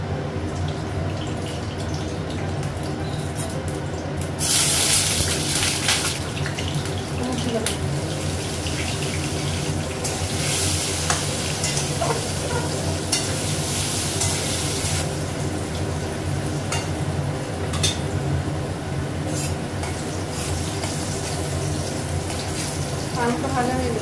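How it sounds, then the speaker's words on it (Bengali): Potato pieces fry in oil in a kadai on a home stove, giving a dense, steady hiss and bubbling that runs throughout while someone talks over it. "আগে আলুটা ভেজে নেব, তেল দিয়ে দিলাম।"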